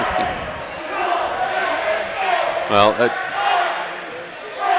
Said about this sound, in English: the crowd's ready to lose it